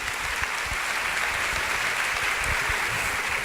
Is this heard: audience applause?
yes